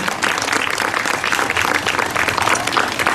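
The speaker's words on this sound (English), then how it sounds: "If you give them a round of applause, because they're absolutely amazing" Crowd applause for the staff at Give Kids The World Village during a pirate ship attraction christening ceremony, loud dense clapping sustained throughout from a sizable audience.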